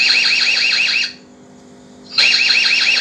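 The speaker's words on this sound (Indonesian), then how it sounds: "Alarm saya matikan." An electronic alarm on a wireless CCTV backup power setup sounds a rapid warbling, pulsing tone, cuts out for about a second leaving a low hum, then resumes just as loud.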